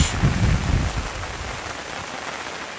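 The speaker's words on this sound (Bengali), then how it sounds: "আজকে অনেক বৃষ্টি অনেক বৃষ্টি" Heavy rain falling outdoors, a dense steady close patter on surfaces that holds without break.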